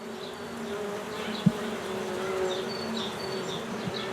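Honey bees buzz softly and continuously in a quiet natural setting in northern Iran, a steady low hum with a few individual insects passing close by and a brief soft knock.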